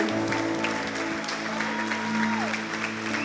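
A church congregation applauds during a worship service, the dense wash of clapping mixed with sustained keyboard or organ chords and a brief voice, loud and continuous for the whole moment.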